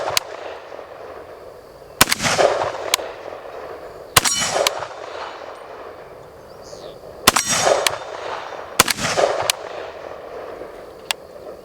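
A Riley Defense AK-47 rifle fires at a shooting range: about five loud, sharp close shots spaced a couple of seconds apart, each followed by a ringing echo, with no talking.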